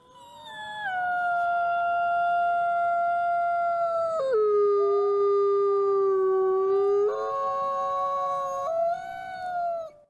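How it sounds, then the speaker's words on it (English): A lone wolf lets out a long, clear howl, sliding down in pitch partway through and then rising again. The sustained mournful wail sounds close and loud and carries on for about ten seconds. "The ominous howl of the wolf, a sound that would have chilled the blood of our ancestors"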